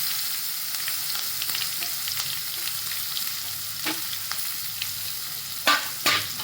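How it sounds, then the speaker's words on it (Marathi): Onion with turmeric and curry leaves frying in oil, a close, steady sizzle with scattered crackles and a few sharper scrapes of stirring near the end. "कांदा तेलामध्ये चांगला परतून घ्यायचा"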